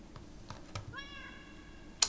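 Two or three faint short mews and then a clearer drawn-out meow from a cat in a Minecraft game, over low background hum, ending in a sharp bright click.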